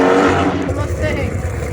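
Loud, aggressive engine roar from a Ford Mustang at a car meet, revving close by and then fading slightly, with crowd voices underneath.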